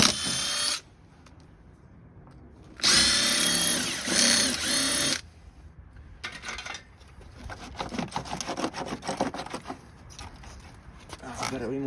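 A power drill backing Phillips screws out of an outdoor weatherproof outlet box, with loud, close bursts of whirring separated by pauses, then lighter rattling handling and a voice talking.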